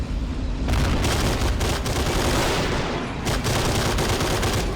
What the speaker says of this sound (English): Taking shots from this Nobelwerfer.